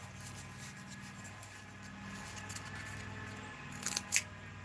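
Scissors snip close at hand, with soft cutting sounds building to a couple of sharp crisp snips near the end over a faint background hum; no speech.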